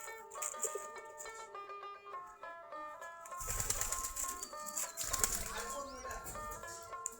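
Local Giribaz pigeons around a loft and tin roof burst into a short flurry of flapping wings midway, loud and close, with someone talking in the background.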